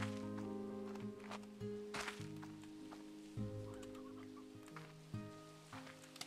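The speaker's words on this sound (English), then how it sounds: "I hear chickens." Soft clucking of chickens drifts faintly through an Animal Crossing game scene, sitting beneath steady background music with sustained tones and light scattered effects.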